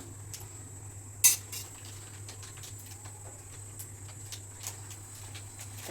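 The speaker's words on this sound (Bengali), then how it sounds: "এবার আমি কড়াইটা বসিয়ে দিচ্ছি।" A karahi wok is set down on a kitchen stove with a single sharp metallic clunk early on, followed by faint scattered ticks over a constant low hum.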